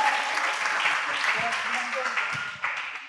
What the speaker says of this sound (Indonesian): Boleh kasih tepuk tangan untuk teman-teman semuanya?